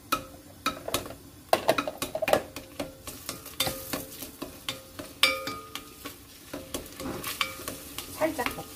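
Garlic stir-fried in a pot with oil, a soft sizzle running under repeated scraping clicks of a spoon against the metal, fairly close and steady.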